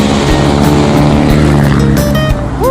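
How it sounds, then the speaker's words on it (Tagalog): A loud, noisy jeep rolls past on a rural road, its engine drone filling the whole stretch up close and near-constant, with no talk. "Ingay na jeep."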